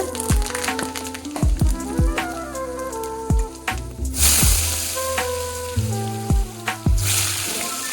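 Potatoes hitting hot oil already flavoured with dried red chilli, cloves, cardamom, garam masala, bay leaf and cumin give off sharp bursts of sizzling that surge and fade, heard alongside tonal background music.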